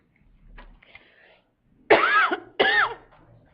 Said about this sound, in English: Always coughing on this microphone.